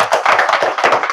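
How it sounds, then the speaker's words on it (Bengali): An audience claps for a DXN leader at a meeting, producing a short, dense burst of hand clapping that is loud and close, with overlapping claps and no talk. "লিডারের জন্য একটু করতালি হয়ে যাক"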